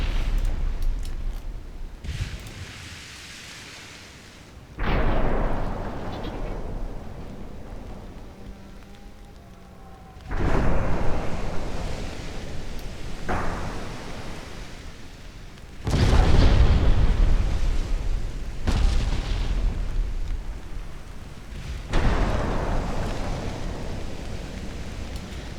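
Heavy 10-inch naval guns fire in Ultimate Admiral Dreadnoughts, with several loud, booming salvos about five seconds apart, each followed by a long rumbling roar with no talk.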